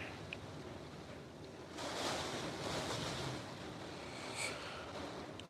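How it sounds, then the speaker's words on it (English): Strong hurricane wind roars with surf and water near Clear Lake on the inlet south of Houston during Hurricane Beryl, a steady rushing wash that swells in louder gusts, with no voices. "Cue the wind."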